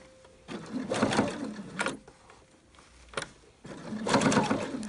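A domestic sewing machine stitches down the pleats of a homemade fabric face mask, running in three bursts of steady, close mechanical whirring separated by brief pauses.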